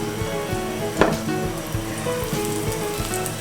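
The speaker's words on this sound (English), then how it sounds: "I am going to take my patty and place it on the pan gently" A beet patty sizzles steadily in an oiled pan, a dense crackling fry with a brief louder burst as it settles, continuing close and even throughout.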